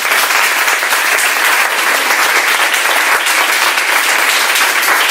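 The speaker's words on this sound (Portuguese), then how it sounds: "Vamos aplaudir a palavra do Senhor." A church congregation applauds together in a loud, sustained, even burst of clapping that fills the whole stretch without pause.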